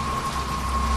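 Steady rain on a stormy night in an animation, a dense even hiss of falling drops with a low rumble beneath and a thin constant tone running through it.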